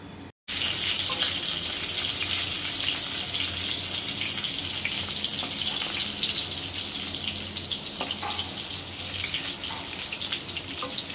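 Stuffed pointed gourd (parval) cooks covered in a pan over a low gas flame, giving a steady, close hiss and sizzle. The sound runs continuously at an even level after a brief silent gap at the start.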